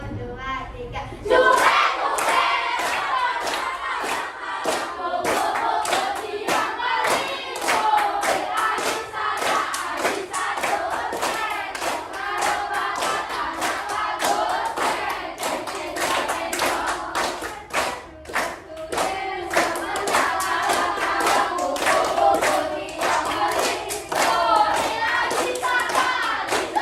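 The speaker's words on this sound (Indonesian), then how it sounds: "Nyanyinya isi tepuk tangan atau tidak?" Children clap their hands in a steady, lively rhythm while singing loudly together in class, the claps sharp and close throughout.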